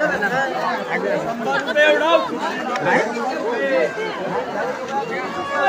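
Busy festival throng at the Chhabina celebration in Mahad, Raigad, producing a loud, continuous babble of overlapping nearby voices with occasional louder calls rising from the mix.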